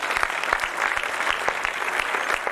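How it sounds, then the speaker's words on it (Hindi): Audience applause at a launch ceremony, a steady wash of many hands clapping with sharp individual claps standing out, moderately loud and continuous throughout. "मैं चाहूंगी कि आप लोग एक बार जोरदार तालियां बजाएं अपने लिए भी"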